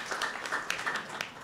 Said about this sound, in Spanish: Dense ustedes un aplauso a sí mismo